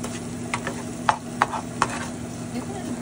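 Spoon stirring chopped onions frying in a pan for a string beans masala curry, with a few soft scraping clicks over a steady low sizzle, close and fairly quiet.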